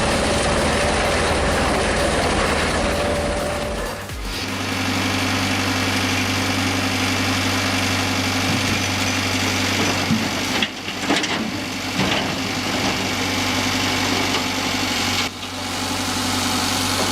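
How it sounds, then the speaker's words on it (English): The engine of a Swiss-made AF Roto 66G log splitter runs in a steady, loud mechanical drone with no pauses, its tone dropping slightly after a few seconds; nobody speaks. "The AF Roto 66G, proudly made in Switzerland, is not a normal log splitter."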